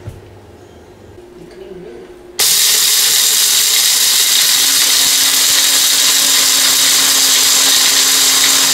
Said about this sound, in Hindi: तो गरम मसाला हमने अब ऐसा करना है कि पीस लेना है।